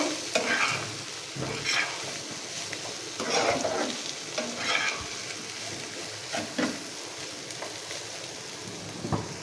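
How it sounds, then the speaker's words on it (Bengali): Bitter gourd (karela) fry is stirred in a pan, a continuous close sizzle overlaid with repeated rhythmic spatula scrapes and tosses every second or so. "এই যে করলা ভাজিটা প্রায় হয়ে এসেছে ভালো করে নাড়াচাড়া করে নেবো"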